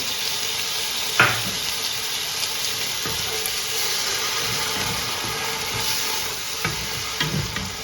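A pan sizzles steadily and loudly as ground masala paste and its grinding water are stirred into fried mutton curry, with occasional scraping clunks from a utensil.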